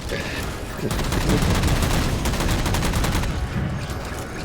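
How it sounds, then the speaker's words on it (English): Heavy, continuous video-game gunfire from Halo 4 fills the scene, with dense rapid automatic bursts and booming impacts layered into a loud, sustained battle roar. "I can't really hear it that well over the gunfire and everything"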